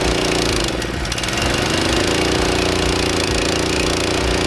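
The small engine of a compact ABI water trailer pump runs with a steady, loud, rattling drone. The sound holds at a constant pace from start to finish.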